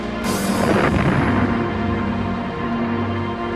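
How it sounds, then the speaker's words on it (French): Bombardment of Alcatraz prison by Marines using bazookas and mortars: a dense, continuous roar of blasts and gunfire, loud and close, with a sharp burst near the start and no speech. "Le pénitencier subit un véritable bombardement."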